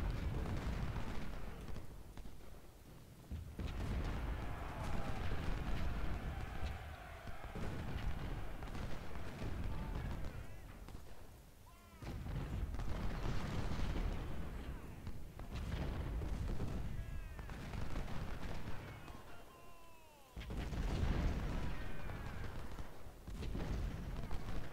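Repeated cannon and artillery booms in a Civil War strategy game, rolling and overlapping almost continuously at loud, steady volume, with brief lulls between volleys and no clear talk over them.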